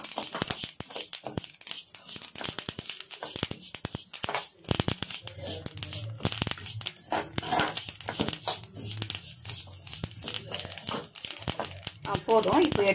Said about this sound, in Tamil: எள்ளு பாருங்கள், இந்த மாதிரி படபடப்படன்னு சவுண்டு வரணும்.